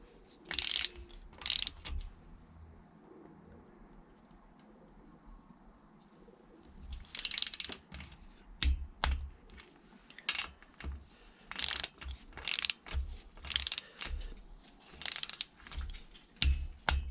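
Torque wrench ratcheting in short bursts while tightening the rocker dome nuts on a Triumph Bonneville T140 motorcycle, close clicking runs separated by quiet pauses.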